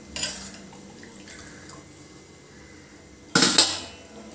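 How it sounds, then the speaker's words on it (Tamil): Kanda thippili rasam being stirred in a metal pot after water is added: a short burst of metallic scraping and clinking at the start, quiet simmering, then a louder clattering stir near the end. "கொட்டி நல்லா கலரி விடுங்க."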